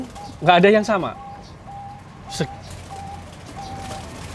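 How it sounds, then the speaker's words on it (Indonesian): Zebra dove (perkutut) in a rooftop breeding aviary gives a series of soft, evenly spaced coos after someone briefly speaks nearby, with one sharper call midway. "Kalau ini gerabakan agak bernyanyi"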